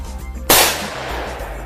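A single sharp .44 Magnum gunshot striking a target, a loud sudden crack partway in followed by a long fading echo tail outdoors.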